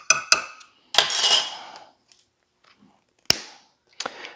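A metal teaspoon clinks sharply against a bowl or jar while measuring ground ginger for a sweet potato pie, with a few scattered taps and scrapes separated by short silences.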